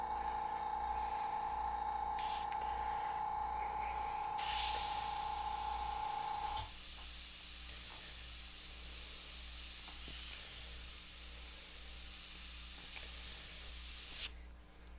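An airbrush sprays paint onto a sea turtle artwork as eye and socket detail are worked in, a steady close hiss that runs almost continuously, with a lower tone under the first half and the hiss cutting off near the end.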